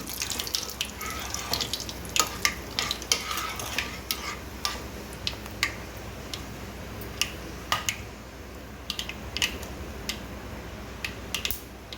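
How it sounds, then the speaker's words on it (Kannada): Dry red chillies go into hot oil already holding cloves and bay leaf while a Gujarati kadhi khichdi is cooked. Quiet, steady crackling comes with scattered sharp pops throughout. "ಒಣಮೆಣಸಿನ್ಕಾಯಿ ಹಾಕ್ತಾ ಇದ್ದೀನಿ"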